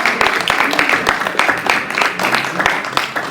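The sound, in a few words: audience applause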